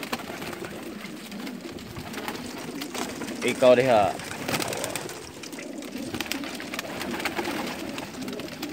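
Pigeons cooing in Saudi Arabia, a soft, low coo rising briefly amid steady background noise, while people talk throughout.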